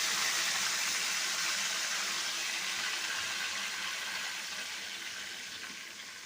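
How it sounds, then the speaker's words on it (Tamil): Tamarind water poured into a simmering oily eggplant curry gives a steady, bright splashing hiss that slowly fades as the pour tapers off. "அந்த புளி தண்ணியை இப்போ நம்ம இதில் சேர்க்க போகிறோம்."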